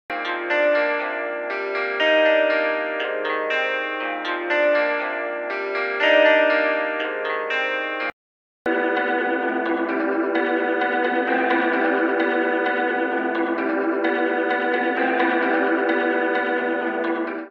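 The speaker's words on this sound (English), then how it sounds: "a dark electric guitar by the company New Nation" Dark electric guitar sample instrument from New Nation playing sustained, effect-drenched chords with chorus and echo, two phrases separated by a short break, with no voices.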